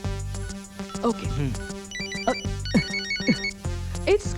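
A phone ringtone plays a repeating electronic melody, fairly close, while voices talk over it.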